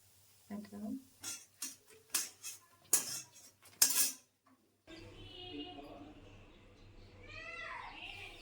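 Fried bottle gourd pakoras are lifted from the pan onto a plate with several close, bright metallic clinks and scrapes over a few seconds, followed by a person talking.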